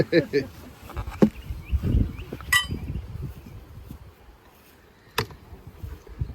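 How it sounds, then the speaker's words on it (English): Live honeybees buzz faintly inside an opened hive during a beekeeping class, a soft drone under clinks and knocks from handling the hive equipment. "There are some live bees in here."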